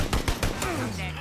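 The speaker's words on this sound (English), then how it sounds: "Stop shooting at us!" Gunfire in the PUBG battle royale game: a quick burst of several sharp shots early on that then trails off, with a voice talking over it.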